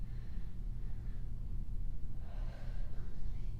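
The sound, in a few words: deep breath during workout cool down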